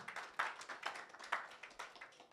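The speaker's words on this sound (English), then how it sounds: "Please give him a round of applause." Sparse, faint applause from a small audience for a panel speaker, a handful of distinct claps in an uneven rhythm, distant and quiet.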